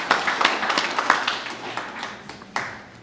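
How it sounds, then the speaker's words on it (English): A group at a 25th anniversary celebration gives a round of applause, with scattered claps that thin out and fade into a few last isolated ones. "give yourselves a round of applause for what you guys have done"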